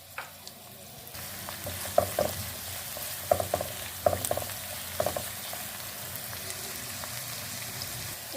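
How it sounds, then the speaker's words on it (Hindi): Chopped onion sizzles and fries steadily in hot cooking oil in a pan, with a continuous hiss and several sharp stirring clatters. "प्याज ले लिया, उसको कट कर लिया, वो इसमें डालेंगे और इसको हम फ्राई करेंगे"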